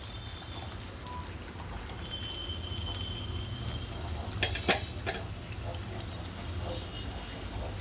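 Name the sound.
drumstick curry with added water boiling in pot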